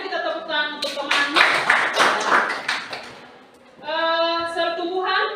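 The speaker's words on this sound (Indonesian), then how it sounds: "Kita tepuk tangan untuk teman." A classroom of students claps for a classmate, a brief burst of hand claps between stretches of nearby talking voices.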